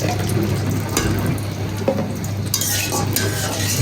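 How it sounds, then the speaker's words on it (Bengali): Lachha semai vermicelli frying in village ghee, a steady close sizzle with occasional spoon scrapes and light clinks against the pot as it is stirred. "ঘি দিয়ে ভাজলে মজাটা একটু বেশি হবে।"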